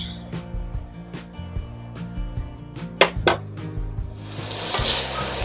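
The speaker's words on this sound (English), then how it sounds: "We got our bacon sizzling up here." Soft sizzling of bacon frying in a pot for clam chowder beneath low musical tones, with a couple of sharp clinks of a utensil and a rising hiss near the end.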